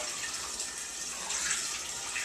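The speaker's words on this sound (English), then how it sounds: "I just used a little pure faucet filter for this part." Cold tap water running through a small faucet filter, a constant hissing splash at close range that holds steady without pause or speech.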